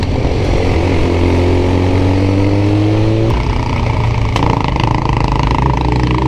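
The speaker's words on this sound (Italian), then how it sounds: "È quando lasci e tipo tiri un pelo di gas e lei tung tung tung" A motorcycle engine idles loudly and close, then takes a light blip of throttle, its pitch rising and settling into a lumpy, rhythmic idle.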